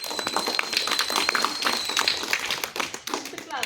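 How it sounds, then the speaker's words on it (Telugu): Children clap in a crowd for a student at a Republic Day celebration at a municipal school, a steady, busy patter of many hands with voices mixed in. "క్లాప్స్ కొట్టండి."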